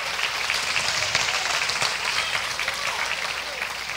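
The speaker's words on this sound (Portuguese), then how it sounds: "Aplauda o Senhor." A church congregation claps in worship, a dense, steady wash of applause from many hands that holds evenly for several seconds.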